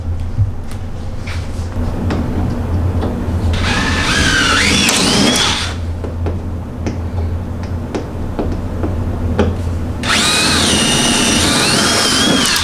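A power drill whines in two loud bursts, drilling out aluminum rivets on a pickup truck bed canopy, separated by clattering handling noises and a low steady hum.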